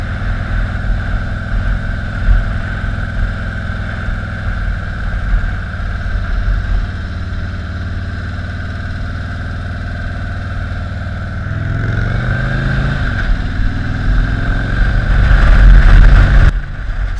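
A 2017 Harley-Davidson Street Glide Special with the Milwaukee-Eight engine rumbles steadily while riding, a deep continuous engine drone that swells louder toward the end as the rider accelerates, with no talk.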